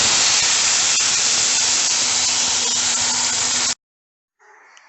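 A ground spinach paste for palak paneer goes into a hot pan with fried cumin and bay leaves, giving a loud, steady sizzling hiss that cuts off abruptly, followed by a faint brief sizzle.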